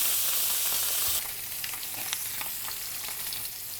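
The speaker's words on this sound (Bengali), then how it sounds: "খুব অল্প তেলেই আমরা ভাজছি" Close, steady sizzle of fish shallow frying in a small amount of oil, with light crackles and a brief pop.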